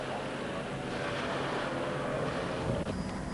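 Dense, steady roar of 25 offshore racing powerboats totalling 5,000 horsepower thundering past, with wind rushing over the microphone, loud and continuous with no voices.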